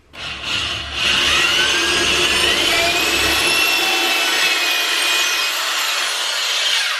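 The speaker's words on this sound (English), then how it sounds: "drill a hole right through" A power drill whines and grinds through a wooden wall stud, loud and close, running steadily for several seconds after a short start.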